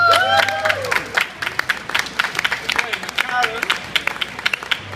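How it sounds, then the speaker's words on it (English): Audience applause for a guest at a vegan festival Q&A, a ragged burst of clapping with whoops and cheers, fairly close, with voices shouting over it. "give a big round of applause for, Karen Ramsey"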